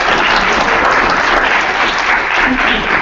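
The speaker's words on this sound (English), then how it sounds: "round of applause for all of our cadets" A crowd applauds cadets in a lecture hall, steady and loud clapping that fills the whole short stretch without a break.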